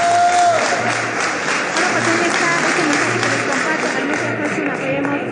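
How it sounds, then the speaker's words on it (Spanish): Crowd at a fashion event in a town square clapping steadily in a dense, even wash of applause under an amplified voice speaking and a low repeating musical pulse. "Ese aplauso."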